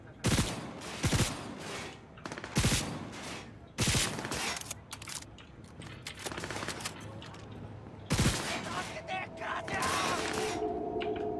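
Bursts of gunfire from a homing smart weapon in the Cyberpunk 2077 video game, loud and close, with several sharp volleys of rapid shots separated by brief lulls and mechanical clatter.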